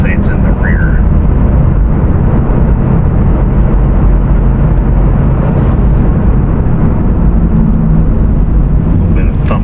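A car with choppy tires, rear wheel bearing noise and thumping brake rotors after a brake job, driving along with a loud, steady road drone and rumble throughout.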